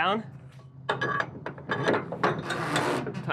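A ratchet strap being tightened on a stacked trailer gives quick bursts of metallic clicking and clanking in uneven spurts, fairly close, with some talk nearby.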